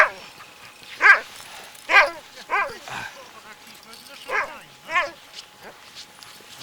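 Several sled dogs bark and yip in short bursts, spaced about a second apart, fairly close, with quiet between the barks, on an Arctic expedition.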